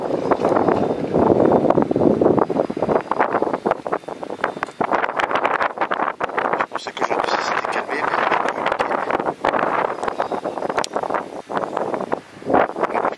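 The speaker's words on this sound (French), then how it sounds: "il y a trop de vent" Strong storm wind buffets the microphone in heavy, continuous gusts while lure fishing in Charleroi, rumbling and roaring up close throughout, with faint rustling beneath.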